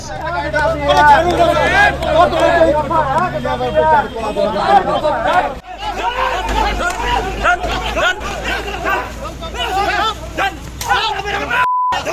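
BJP protesters in Birbhum chant slogans in front of police during a Bangla Bandh, with loud, rhythmic crowd voices up close and a babble of people shouting throughout.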